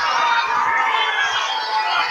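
An MMA fight crowd roars wildly in a dense, continuous wall of loud cheering and yelling that fills the arena.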